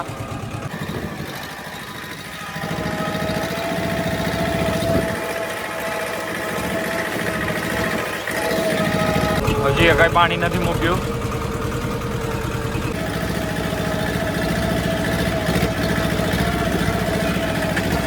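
A mini tractor engine drones steadily and close while it builds ridges in a castor field, its note rising a little partway through, with someone talking over the running engine.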